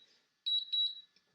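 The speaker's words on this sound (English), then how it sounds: "There's a return to home beep." A DJI Mavic Pro drone's return-to-home alert sounds as a short series of high, thin electronic beeps, clear and alone against near silence.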